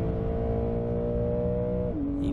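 A 2020 Porsche 911 Carrera S pulls hard after a launch, its engine a loud, steady, rising roar heard from inside the car, with a brief drop in pitch near the end as it shifts gear.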